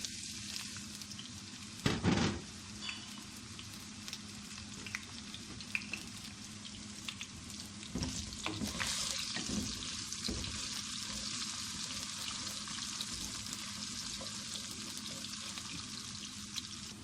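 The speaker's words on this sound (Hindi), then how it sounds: "सबसे पहले हम प्याज फ्राई करेंगे।" Sliced onions fry in a pan for Chinese-style rice, a soft, steady sizzle with faint crackles and a few stirring scrapes running throughout at low volume.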